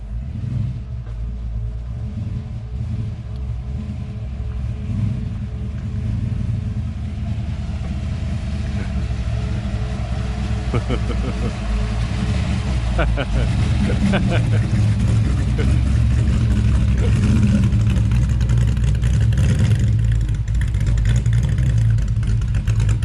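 A modified car engine fitted with a big cam revs and rumbles steadily up close, a deep loping idle swelling into louder revving, with people talking nearby.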